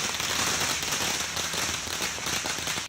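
Fireworks crackle at a street celebration outside a politician's home after a Punjab cabinet expansion, a dense continuous hiss of rapid pops and bangs with no gaps, loud and steady throughout.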